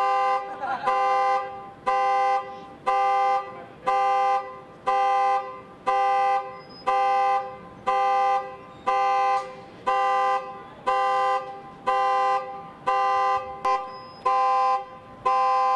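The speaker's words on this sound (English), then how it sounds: "Car sound." A car alarm blares a repeating horn-like toot in regular bursts about once a second, loud and steady for the whole stretch, with no talk over it.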